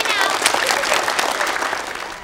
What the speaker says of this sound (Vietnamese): Cả lớp vỗ tay nào.